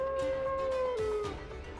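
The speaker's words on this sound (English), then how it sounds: "That howl. That must be the signal from Fushiguro." A howl used as a signal in the Jujutsu Kaisen Cursed Clash video game: one sustained, wavering tonal howl that sags in pitch near the middle, heard alone and fairly loud against a busy game soundscape.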